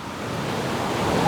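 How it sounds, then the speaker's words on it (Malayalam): Falling water roars in a steady broadband rush at Aruvikuthu falls in Thodupuzha, with some wind buffeting the microphone and no voices. "ഇതാണ് വാട്ടർഫാൾസ്."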